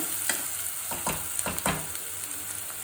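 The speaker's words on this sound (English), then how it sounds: "fry the onions till it changes the color" Onions frying in a pan give a steady close sizzle, with repeated scraping strokes of stirring at an uneven rhythm and no voices.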